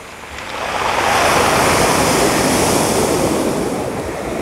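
Ocean surf roars steadily as waves break and wash in at Makaha Beach, a loud, continuous rushing that swells slightly and holds, with wind buffeting the microphone.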